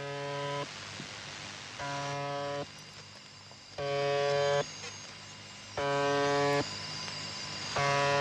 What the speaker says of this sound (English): Now this is a broadcast from something called UVB 76. Yeah. Also known as the Buzzer.